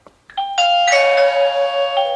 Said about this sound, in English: So press the doorbell